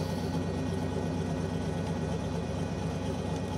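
Blown fuel A-engine rear modified roadster running on a racing course, a steady loud engine drone with dense low rumble throughout, no clear changes in pitch.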